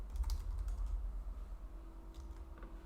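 Quick, soft keystrokes clatter on a computer keyboard, close and fairly quiet, in an irregular burst of several presses with brief pauses and a low background hum.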